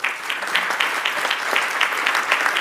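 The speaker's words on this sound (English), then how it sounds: "So one last round of applause for them." An audience at an aircraft concept and demonstration presentation gives a closing round of applause, with moderately dense clapping and distinct individual claps standing out, steady across the short span.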